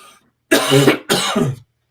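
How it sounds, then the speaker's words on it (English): Two harsh coughs in quick succession, close and loud, separated by a brief pause. "I'm sorry for the coughing"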